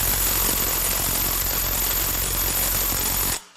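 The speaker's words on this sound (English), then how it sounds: "we're going to see if my new impact will break these cam gear bolts loose" An impact wrench hammering at the cam gear bolts on a BMW 335i N54 twin-turbo engine, a loud continuous rattling buzz lasting about three seconds before cutting off abruptly.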